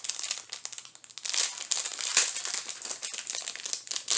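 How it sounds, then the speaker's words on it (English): Plastic packaging crinkling and crackling steadily as an enamel pin is worked free of it, close and continuous with irregular bursts of rustle. "let me see if I can get it out of the package so that we don't have the glare of the plastic"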